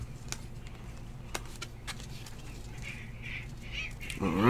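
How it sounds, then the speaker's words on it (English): Several birds call at a distance in short repeated squawks and honks over a low steady hum, with a louder rustling burst at the very end. "Freaking birds."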